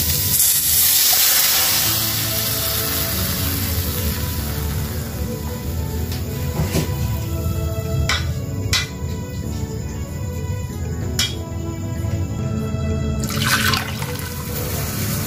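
Chicken stock poured into a hot pan of fried chicken for chicken soup: a steady, continuous liquid rush and splash lasting throughout, fairly loud and close, with a few faint clicks.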